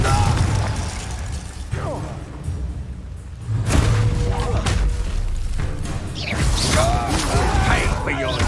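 Confringo fire spell going off in the Hogwarts Legacy game during a duel, with bursts and booming blasts over busy combat noise, swooshes and mechanical clatter, loud and layered throughout.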